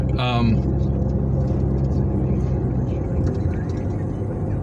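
A car rolls slowly along a sidewalk, its engine a low steady rumble heard from nearby, with a brief tonal sound at the start.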